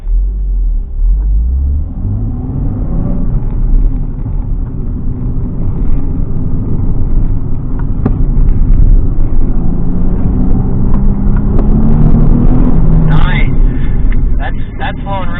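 A car working through a slalom exercise, its engine rumbling and revving up steadily while someone talks over it throughout.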